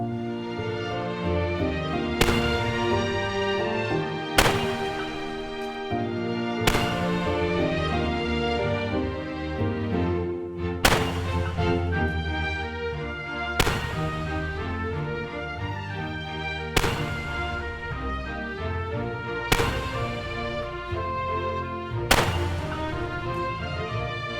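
Gunshots are fired at a spinning Texas star target in practical shooting: about eight sharp, loud single shots spaced a few seconds apart, over continuous music.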